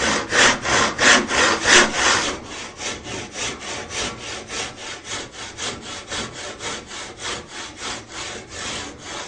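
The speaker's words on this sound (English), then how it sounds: "start sawing that off." A handsaw cuts through a piece of carving wood in steady back-and-forth strokes, louder and heavier at first, then settling into lighter, quicker rhythmic rasps close by.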